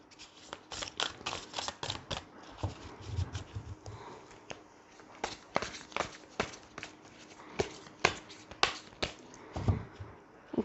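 A deck of tarot cards is shuffled by hand, with repeated soft riffles and sharp little slaps of cards coming in uneven bursts, close and fairly quiet.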